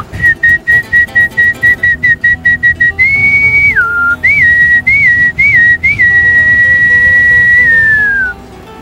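A llanero cattle herder whistles a tune alone: loud, clear short notes repeated in a quick rhythm, then longer sustained notes that bend and glide before fading out.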